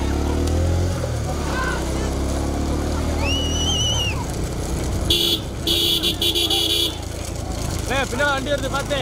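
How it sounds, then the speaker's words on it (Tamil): Road vehicles move near a bullock cart race in Embal, Avudaiyarkoil taluk, with engine rumble and a few sharp horn toots against a busy crowd, while people talk and shout throughout. "வண்டி வருது பார்த்து."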